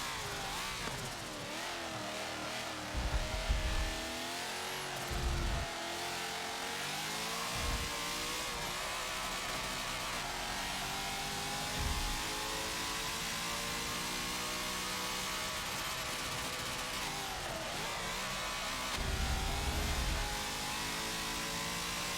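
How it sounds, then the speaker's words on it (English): A belt-driven supercharged car engine in the Forza 7 racing game drones and revs continuously, its pitch rising and falling through gear changes, with occasional low thumps. "Or might be a supercharger. Like a belt driven supercharger."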